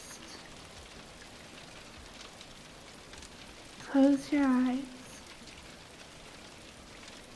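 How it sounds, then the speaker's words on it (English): Rain falls steadily as a soft, even hiss throughout, with a voice speaking briefly over it partway through. "Listen to the rain fall around you."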